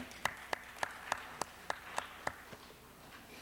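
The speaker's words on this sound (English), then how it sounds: "Please give them a round of applause, our new commissioners" Sparse clapping in a city council chamber after new commissioners are approved, about ten distinct claps in a slow, uneven rhythm, fairly faint and alone without talk.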